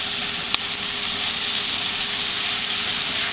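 Food simmering and sizzling in a crowded skillet for Salisbury steak, a steady close frying hiss with a single faint clink, no talking.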